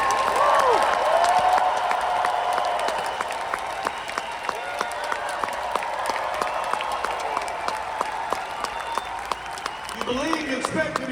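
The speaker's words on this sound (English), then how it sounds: "Clap your hands and shout." An audience at a motivational talk claps and shouts, a dense wash of applause that stays loud and sustained throughout, with a cheer or whoop early on and a voice rising near the end.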